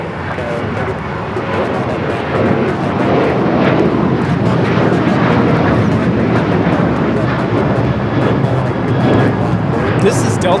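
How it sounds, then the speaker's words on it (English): A Delta Airlines Boeing 737-800 taking off from LAX, a sustained loud broadband jet roar holding steady across the whole stretch, with people talking faintly underneath. "This is Delta Airlines 2096 taking off to New Orleans on the 737-800"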